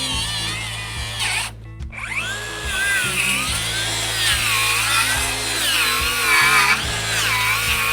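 A cordless circular saw, DeWALT DCS590 or Milwaukee 2834, runs loud and steady through a cut, its pitch dipping briefly under load near the start before holding a sustained whine with small swells.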